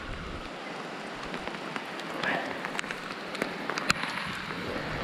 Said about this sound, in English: This rain is getting really